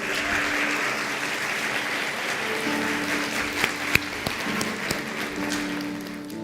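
A church congregation applauds the Lord during a Portuguese-language sermon, a steady wash of many hands clapping at moderate loudness with a few sharper claps standing out near the end.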